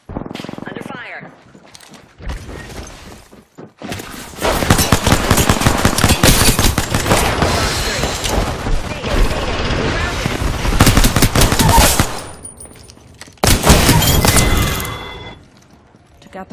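Loud, close video game gunfire in sustained rapid automatic bursts, with a second shorter volley after a brief pause, over voices talking beneath the shooting.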